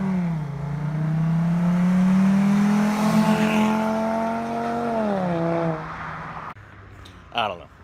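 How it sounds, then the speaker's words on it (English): A Volkswagen car accelerating hard down a street, its engine rising steadily in pitch through a long pull before easing off and fading, loud and fairly close, with a brief noise near the end. "the Volkswagen guy says his car sounds way better when he's doing a pull down the street"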